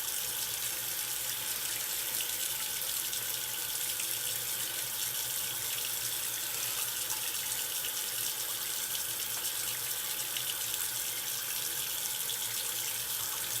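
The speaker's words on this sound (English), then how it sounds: "so it'll just be cold tap water" Cold water runs from a tap in a continuous, even hiss, close and fairly soft, steady from start to finish without pauses or voices.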